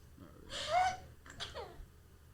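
A single sharp human sneeze during a casual podcast conversation, a quick inhale rising into a burst, followed by a shorter breathy trailing sound, close to the microphone in a quiet room.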